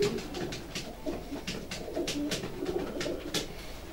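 Pigeons coo steadily in a Belgian long-distance racing pigeon loft, their soft, rounded calls overlapping at close range, with brief flutters and light scratching sounds in between.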